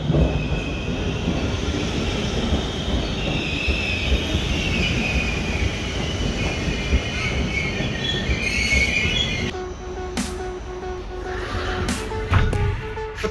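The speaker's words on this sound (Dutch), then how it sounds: "Vertrokken uit Hengelo met een comfortabele koploper." Koploper train departing from Hengelo station, a continuous rumble of wheels on track with squealing tones, heard from inside, then a quieter stretch with clicking and rattling near the end.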